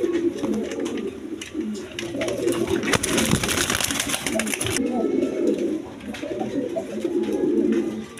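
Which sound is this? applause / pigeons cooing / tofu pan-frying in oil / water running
pigeons cooing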